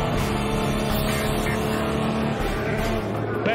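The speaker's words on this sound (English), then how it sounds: "Benoit Treluet has pulled off an absolutely awesome manoeuvre around the outside of Simon Pagenaud there." An Audi R18 race car roars past at Le Mans while overtaking, a loud sustained engine drone with commentary voices over it.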